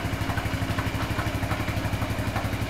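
A Suzuki Burgman scooter idles while held in place and creeping forward, its engine a loud, close, evenly pulsing drone with a faint clatter.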